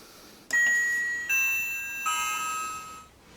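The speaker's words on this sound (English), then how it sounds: "let's try the doorbell again" A Playmobil Modern Luxury Mansion toy doorbell chimes three times in a row, each bright electronic ding ringing out and decaying before the next, close and clear with no talk.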